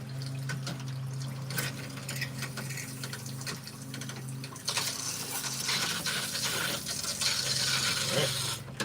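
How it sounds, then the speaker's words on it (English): RV antifreeze runs and sputters out of a shower head in a travel trailer during winterizing, a steady watery hiss with a low pump hum beneath, growing a little louder and rougher midway. "Then we start getting some out of the shower head here."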